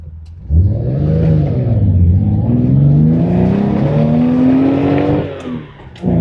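Porsche 911-T flat-six engine revving up toward its 6,500 rpm redline, a loud, close, continuous rising engine note that climbs steadily for several seconds before dropping off.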